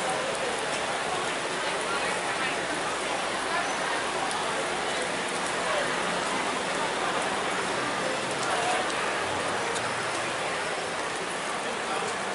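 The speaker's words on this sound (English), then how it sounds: "As you see, people, it is raining." Steady rain falls outdoors during a food festival in Evansville, making a dense, even hiss that holds at the same level for the whole stretch.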